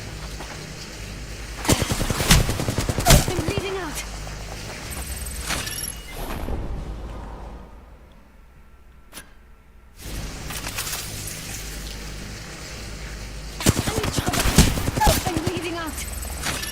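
Rapid automatic gunfire from a full magazine dump in Apex Legends, with bursts around the start and end, a short lull in the middle and loud close shots over game effects.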